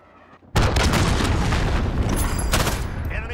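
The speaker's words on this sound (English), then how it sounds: "Allied cruise missile launched." A cruise missile strike in Call of Duty Modern Warfare hits with a sudden, loud boom after a brief quiet moment, then rolls into a sustained, rumbling roar of blast noise for several seconds.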